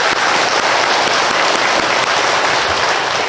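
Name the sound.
audience applause for the church choir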